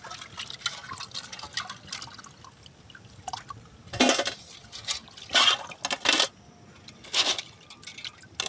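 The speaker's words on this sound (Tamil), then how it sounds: "நம்ம கடலில் பிடிச்சா நண்டு அலசி எடுத்துக்கலாம்." Freshly caught sea crabs are rinsed in water, with irregular close splashes and sloshing bursts separated by quieter dripping moments.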